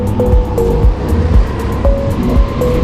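Racing karts on a track, with a loud close engine drone whose pitch rises and dips as other karts are passed one after another, accompanied by low rumbling and intermittent whining tones.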